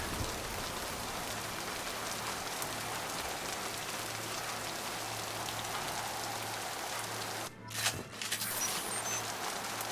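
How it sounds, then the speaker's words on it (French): Rain in the Mass Effect 2 video game falls as a steady, dense hiss across the whole stretch, with a low hum underneath and a brief dropout near the end. "Il pleut."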